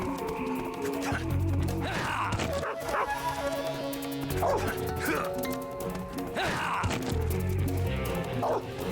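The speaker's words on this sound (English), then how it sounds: "I'm really bad at fighting dogs." Dogs bark and yip repeatedly in Metal Gear Solid 3, loud and close in several bursts over game music and effects, with someone talking throughout.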